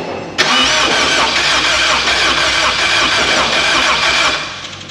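A BMW E36 fitted with a swapped Honda K24 turbo engine cranks over in a start attempt: a sudden loud onset, then a steady, dense mechanical churn held close for several seconds before it eases off.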